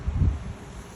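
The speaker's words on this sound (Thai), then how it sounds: "อันนี้ลมธรรมชาตินะ" Natural wind buffets an outdoor microphone at a clothing sale, a brief low rumbling gust that swells loudly at first and then settles into a softer steady whoosh, with no talking.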